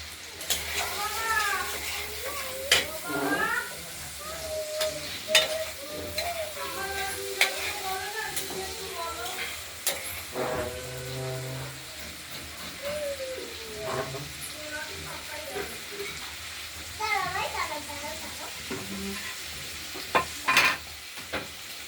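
Chopped cauliflower and small diced potatoes frying in oil in a wok, a low sizzle with intermittent stirring clatter, while a voice talks over it and a cat meows faintly at times.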